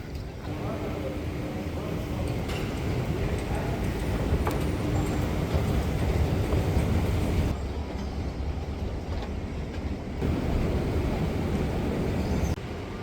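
Steady low rumble of a Doha Metro Red Line train running, continuous and fairly loud, with faint voices in the background.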